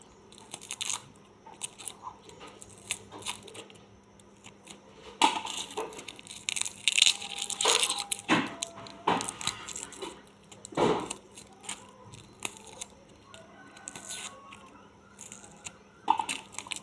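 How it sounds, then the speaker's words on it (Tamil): Small onions being peeled by hand without a knife: irregular close crackling and crunching of dry papery skins being torn and snapped, in scattered bursts over a quiet background. "சின்ன வெங்காயம் கையில் உரிக்கிறது ரொம்ப நல்லது"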